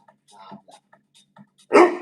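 A dog lets out a single loud, sharp bark near the end, after a stretch of quiet with faint voices and soft noises in the background.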